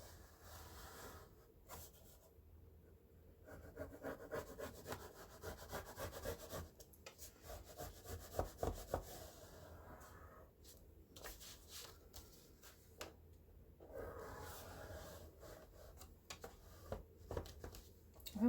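Paper from a file folder is scored to form a half-inch flap for a journal cover, giving soft scraping and rubbing strokes in uneven bursts with brief pauses between them, close up and fairly quiet.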